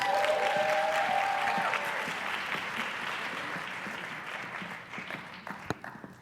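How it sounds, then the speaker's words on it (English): A crowd at a Martin Luther King commemoration event in Columbus applauds. The clapping starts full and gradually thins and fades over about six seconds, with a few isolated claps near the end. "Let's give her a round of applause."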